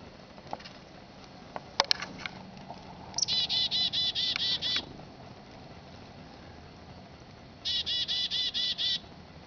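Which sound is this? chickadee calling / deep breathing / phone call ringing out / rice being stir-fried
chickadee calling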